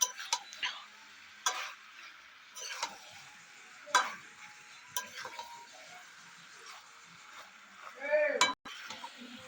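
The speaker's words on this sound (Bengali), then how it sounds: "আলুগুলো দেওয়ার পরে অনেকক্ষণ ধরে এটাকে ফ্রাই করতে হবে।" Potatoes frying in oil in a pan for a chicken dish while a spatula stirs and scrapes them, giving intermittent scraping clicks and taps over a low sizzle, with someone talking at times.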